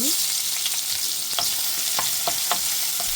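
Sliced garlic, chili and chopped onion fry in hot oil in a home kitchen, a steady close sizzle with occasional scraping stirs of a spatula in the pan.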